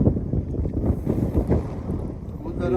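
Strong wind gusting across the Nelji hilltop, buffeting the microphone in uneven close bursts, with a voice talking faintly under it.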